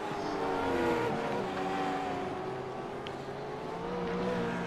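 V8 Supercars roar around Sandown in a racing simulation, engines droning and shifting pitch as several cars run together, a steady loud engine wash with no talk.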